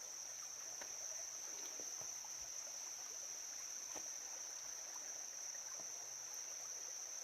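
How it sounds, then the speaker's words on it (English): Small mountain creek in North Georgia flowing with a faint, steady wash of water, a constant high insect-like whine above it and no voices. "Little stream."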